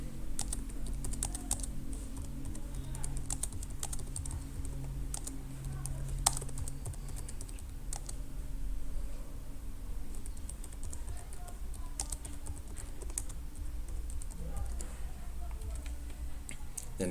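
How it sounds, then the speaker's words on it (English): Rapid, steady tapping on a computer keyboard continues for the whole stretch. The keystrokes are close, quiet and fairly even, with a low background hum under them. "You type your text"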